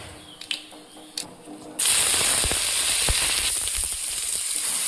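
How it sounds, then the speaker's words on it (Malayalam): Mustard seeds crackle and pop in a hot pan for a quail egg roast: a few sharp pops at first, then a sudden loud, dense sizzle and spattering that continues steadily up close. "പാനൊക്കെ ചൂടായിട്ടുണ്ട്. കടുകൊന്നിട്ട് പൊട്ടിക്കാം."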